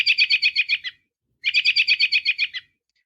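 A songbird gives two fast trilled bursts of about eight bright chirps each, separated by a short silence, loud and close against a clean quiet background.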